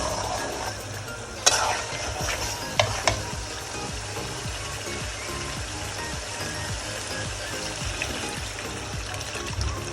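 Chicken for a roast sizzles and simmers in a pan as water is added, a continuous soft bubbling hiss with a few sharp clinks and splashes early on.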